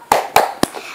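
Three crisp hand claps, evenly spaced and close, open a children's clapping song about the Islamic ablution, wudhu, with nothing else heard around them.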